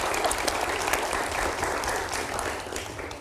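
A television studio audience breaks into applause for a guest professor, dense, sustained clapping from many hands that holds steady before tapering slightly at the end.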